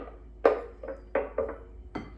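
Several sharp clinks and scrapes of a utensil against a blender jar while scraping out salsa verde, spaced irregularly, close and fairly quiet.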